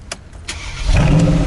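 A Mercedes G-Class with a turbo V8 starts up at an auto show, a few faint clicks giving way to a rising engine rumble that swells near and loud in the final half second.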